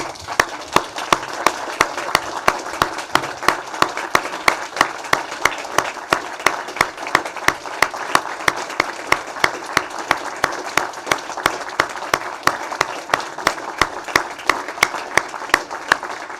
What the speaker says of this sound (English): And a big round of applause for all our diplomats.